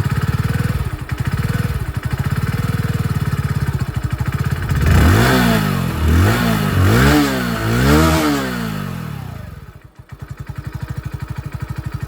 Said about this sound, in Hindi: तो ये था दोस्तों यहाँ पर इसकी एग्जॉस्ट साउंड।